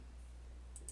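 A computer mouse gives two quick, faint clicks close together near the end of an otherwise quiet moment.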